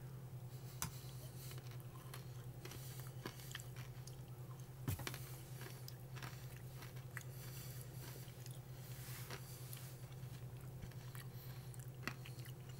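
Notti & Daim Norwegian candy bars with a peanut-like crunchy centre are chewed close up, with faint, irregular bites and crunches over a low steady hum.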